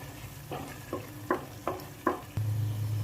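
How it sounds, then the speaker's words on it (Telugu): Curry leaves hitting hot oil for a Godavari-style fish curry, a run of sharp sizzling bursts at a steady pace that settles into a continuous loud frying crackle. "ఇప్పుడు ఇందులోకి 2 రెమ్మల కరివేపాకు కూడా వేస్తున్నాను."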